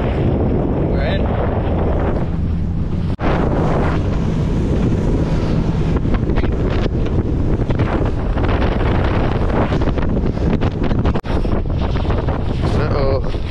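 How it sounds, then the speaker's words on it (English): Strong, continuous wind roaring and buffeting across the microphone at sea off the Needles, Isle of Wight, with water sloshing and occasional gusts; no clear speech. "It feels windy enough for me."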